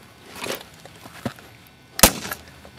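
Nail gun firing a 1.5 inch concrete nail to set a starter tie, one sharp loud crack near the end, preceded by quieter handling knocks and taps.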